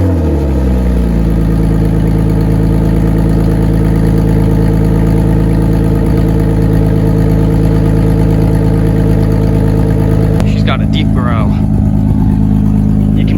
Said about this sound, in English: I'm gonna do a cold start on a 1988 Toyota Supra.